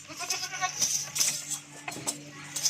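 Black goats at a livestock sale bleat repeatedly, overlapping calls close by amid general farm-yard bustle and rattling.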